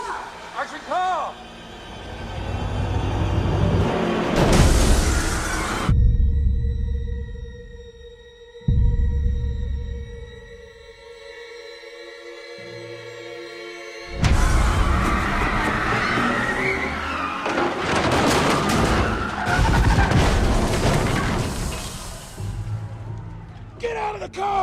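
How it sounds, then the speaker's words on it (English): On a film set for The Batman, a stunt car roars in and skids with loud screeching tyre squeals in two heavy bursts, separated by a quieter stretch, with voices shouting around it. "Here comes the car!"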